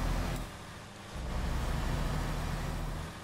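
A truck engine in American Truck Simulator hums low and steady with a broad rush of road noise, swelling slightly after a brief dip.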